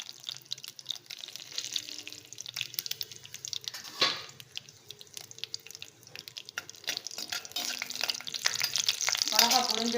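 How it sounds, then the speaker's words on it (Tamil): Mustard seeds and red chilies sizzle in hot coconut oil in a kadai, a steady crackling fry with scattered pops and spits that grows louder toward the end, with faint background sounds. "கடாயில் கடுகு போட்டுக்கிறேன்."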